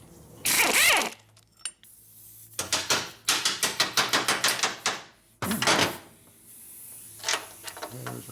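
Ratchet wrench with a 9/16 socket working on the primary of a 1972 Harley XL Ironhead Sportster, rapid close metallic clicking in bursts separated by pauses and a few louder clanks.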